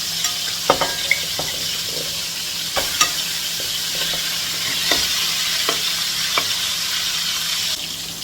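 Meat sears in a hot pan with a steady broad sizzle, broken by intermittent clicks and scrapes of stirring against the cookware, close up with no talking.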